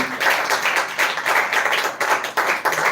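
An audience at a speech competition grand finale claps steadily for a speaker, a close, even patter of many hands in rhythmic waves lasting the full few seconds with no talking.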